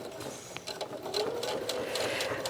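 A sewing machine stitches along a tuffet seam with its needle set about 1.5 millimeters to the left, giving a steady, close, rapid mechanical whirring with rhythmic needle ticks and no talk.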